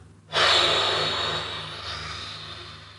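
One forceful exhale during an Agnisara yoga exercise bursts out close and loud, then trails off into a long breathy rush of air that slowly fades.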